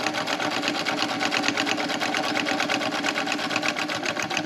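A sewing machine stitching fabric runs steadily throughout, a fast, even rattle of needle strokes, close and loud with no talk over it.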